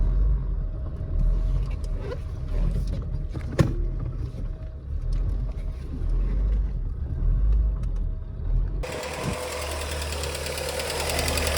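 An Opel Vectra's warmed-up engine idles steadily as a continuous low rumble, with a brighter broadband hiss taking over in the last few seconds; no talk.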